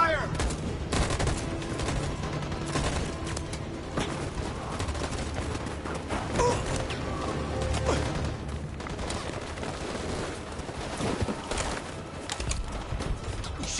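Sustained gunfire in the video game Detroit: Become Human, a long, loud fusillade of overlapping rapid shots with sharp cracks scattered through it and occasional shouted voices buried in the din.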